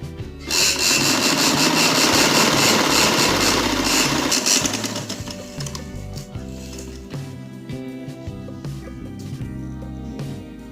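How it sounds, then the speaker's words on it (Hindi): A sewing machine stitches a neckline on a garment, its loud, steady mechanical whirr running continuously for about five seconds before fading to a softer hum against a melodic backdrop. "अब इस तरह सिलाई लगा लेनी है इसको।"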